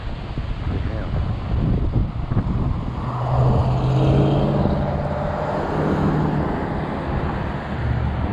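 A motor vehicle passes on the road near a 20-inch 48V Ecotric fat tire e-bike, its engine rumble swelling from about three seconds and holding under constant wind noise on the microphone.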